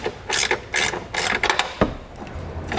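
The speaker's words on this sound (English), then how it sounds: "You'll use the same socket to remove the bolts on the side as well." An 18mm socket on a ratchet removes side bolts while fitting a Curt trailer hitch receiver to a 2017 Infiniti QX60, giving close, loud bursts of rapid ratchet clicking in several short strokes.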